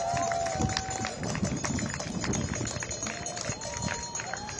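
At a protest in Washington against Donald Trump, a large outdoor crowd claps continuously. The dense, roaring applause fills the whole stretch, while voices call out over it and a whistle-like tone sounds briefly.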